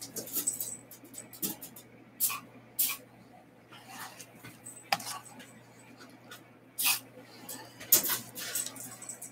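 Short, sharp hissing bursts from a silicone spray can spraying into cups for acrylic paint pouring, repeated irregularly, with quiet handling noises in between.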